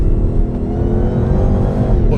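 Hennessey HPE750 Mustang engine running hard on a race track, a loud, steady, close-up roar under continuous load with rumbling low end throughout.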